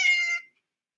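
A cat named Nala gives a single short, clear meow, close and fairly loud, then silence.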